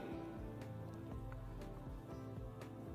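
Rain falls in Dubai, a steady dense patter on hard surfaces with scattered sharper drop taps, moderately quiet and continuous with no voices.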